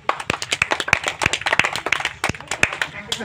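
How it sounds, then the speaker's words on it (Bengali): An audience claps loudly for a village girl during a banana-eating challenge, with sharp, irregular hand-claps in a rapid burst alongside talk. "দর্শক বন্ধুরা জোরে একটা হাততালি হয়ে যাক"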